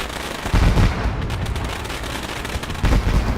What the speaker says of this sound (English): he's the one the fireworks are going off for off the back straight